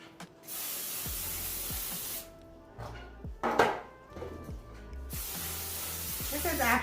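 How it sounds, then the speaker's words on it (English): Canola oil sprayed onto cooking pans in a cabin kitchen, several loud sustained hissing bursts close up, separated by brief pauses and light kitchen clatter. "And I got canola oil to spray the pans."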